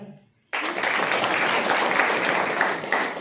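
A class of children claps together during a Holi special lesson, a sudden burst of dense, steady applause starting after a brief quiet moment and holding loud and even to the end.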